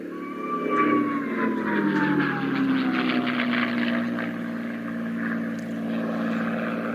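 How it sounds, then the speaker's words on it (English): A North American P-51D Mustang piston fighter making a pass at the RAF Cosford Airshow in 2019, its propeller engine roaring steadily with a falling Doppler drone as it sweeps by at moderate distance. "this aircraft, this very example, which is about to perform its last pass"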